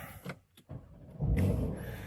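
A 2019 Porsche 911 Carrera 4S comes to life from inside the compact cabin: a short whir and clicks, then the engine catches with a loud low rumble that holds steady.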